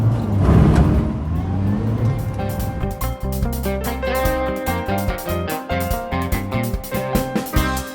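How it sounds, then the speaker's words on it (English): Caravan driving past, its engine swelling loud at first and then fading as it moves off, with musical tones running underneath. "caravan."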